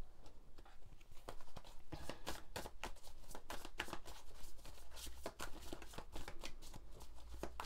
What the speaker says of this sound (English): So let's pull three final cards for you